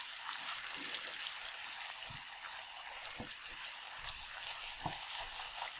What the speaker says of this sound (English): And as this is cooking, I'm going to add pepper to this. I'm going to saute nicely.